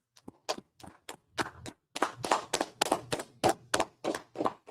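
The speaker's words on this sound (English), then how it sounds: "Let's clap it up." A handful of people clap in scattered, uneven bursts, close and fairly quiet, with the claps quickening and thickening toward the end.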